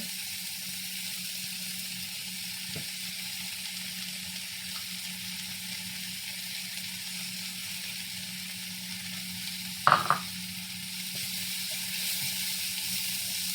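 Garlic and ginger sizzle steadily in hot oil in a pan, a quiet continuous frying hiss with a brief clatter of stirring partway through.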